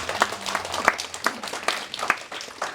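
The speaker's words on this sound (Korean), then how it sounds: "영광의 박수 드리겠습니다" A short burst of clapping from a small church congregation, uneven claps with some louder individual hits, no voices over it.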